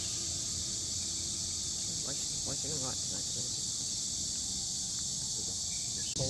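Cicadas drone in a high, continuous summer buzz that stays loud and unbroken throughout, while a voice speaks briefly near the middle.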